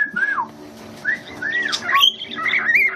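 Wild birds trade bright chirps and whistled calls in short repeated phrases, some rising and falling, sounding close and fairly loud against a quiet outdoor background.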